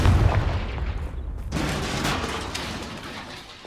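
A Confringo fire spell blasts off in Hogwarts Legacy, a loud low booming burst at the start followed by a second rumbling impact and lingering crackle, with no talk.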